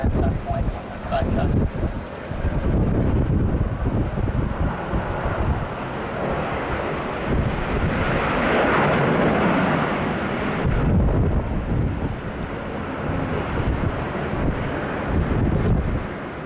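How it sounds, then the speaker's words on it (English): A Beechcraft Baron twin-engine light aircraft on runway 16 Right at Sydney Airport, its engine roar steady and broad beneath heavy wind noise across the whole stretch, with people talking over it. "Right, here she goes, the mighty Baron"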